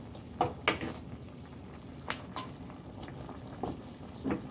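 Cow liver simmers in a pot, a soft bubbling with a few sharper pops and spatters, fairly quiet and close with no voices.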